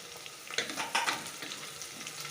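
Green chillies, cut lengthwise, sizzle and crackle steadily in hot oil for a mutton curry, with a few sharper spits and pops standing out above the continuous frying hiss.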